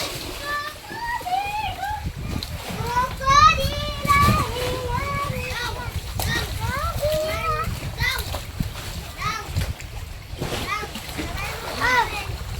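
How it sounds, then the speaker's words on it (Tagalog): Many children splash and play in water during a holiday swim, with continuous splashing and sloshing under a constant din of overlapping kids' shouts and chatter near and far. "Holiday pala ngayon kaya mga maraming mga bata naliligo"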